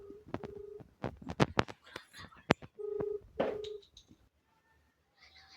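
A phone being dialled to call someone gives a quick run of short keypad tones, several tight beeps and a few longer ones, close and fairly clear, then fades to quiet.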